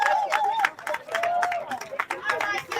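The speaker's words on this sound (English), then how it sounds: "Clap it up, clap it up." A crowd at a city council campaign kickoff claps in short uneven bursts while voices and chatter carry on over it, a lively but modest patter of hands mixed with talk.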